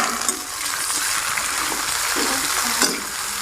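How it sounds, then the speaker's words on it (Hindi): Vegetables sizzle and crackle as they are added to a hot oil tempering, a dense continuous frying hiss with occasional stirring clinks, close and fairly loud, no voices. "तड़का भून गया है, यहीं पे डाल देते हैं सब्जी"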